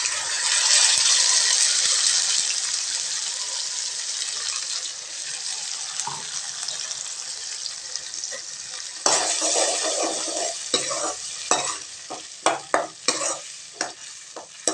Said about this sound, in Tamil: இது எண்ணெயில் நல்லா வதங்கட்டுங்க.